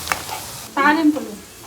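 Tempering spices hit hot oil in a pot while cooking ragi sangati with brinjal curry: a short, fairly loud burst of hissing sizzle close by, with a brief faint voice just before it.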